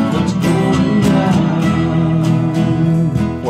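An acoustic guitar strums the chorus of a song, loud and close, with rhythmic downstrokes sounding as repeated chord hits, each chord struck twice in an even pattern.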